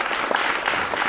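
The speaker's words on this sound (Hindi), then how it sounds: "जोरदार तालियों से एक बार फिर से स्वागत करेंगे" An audience on a political talk show gives a guest a rousing welcome with brief, dense and steady applause, many hands clapping close and loud.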